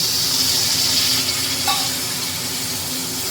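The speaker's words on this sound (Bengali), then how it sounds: "এবার এর মধ্যে একটু জল অ্যাড করে নেব সব গুঁড়ো তো একটু জল দিলেই এটা পুড়ে যাবে না" Water poured into hot oil with sizzling spice powders, including garam masala, for tarka dal, giving a loud, steady broadband hiss that fades slightly toward the end.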